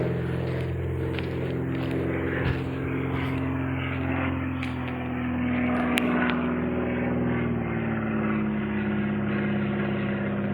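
A small propeller plane near a small-plane runway at a rural aerodrome drones steadily at a moderate distance, its engine hum continuous throughout with faint outdoor rustle and no speech.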